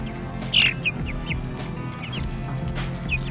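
Several short clucks and squawks from nearby chickens over a steady low background hum.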